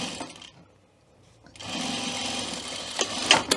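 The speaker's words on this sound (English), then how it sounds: "we're just going to stitch in the seam allowance" A sewing machine stitches pocket lining into the seam allowance of a welt pocket. It gives a brief whir, pauses, then runs in a steady, close mechanical hum for about two seconds.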